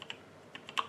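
Typing on an Aukey KM-G6 gaming keyboard with Cherry MX mechanical switches: a handful of sharp, separate key clicks at an uneven pace, close and fairly quiet, with no voice.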